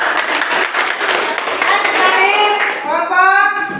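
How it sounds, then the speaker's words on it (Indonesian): A classroom group claps for a team of students, a burst of quick clapping that blends with children's voices and chatter rising over it toward the end. "tepuk tangan untuk kelompok Bumi"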